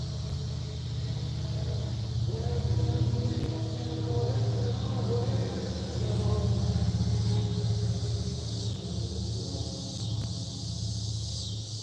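A car engine drones loud and close in a steady low rumble, swelling slightly a few times without dropping away.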